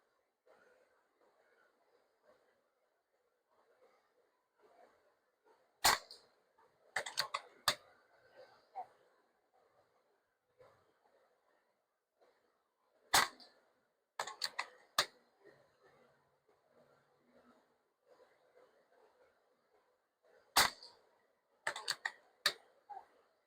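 A Beeman Raider air rifle is fired in three separate bursts of sharp, snappy shots, each followed by quick clicks and handling noise, with a soft murmur underneath.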